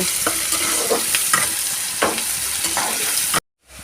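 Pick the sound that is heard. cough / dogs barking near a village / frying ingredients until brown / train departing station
frying ingredients until brown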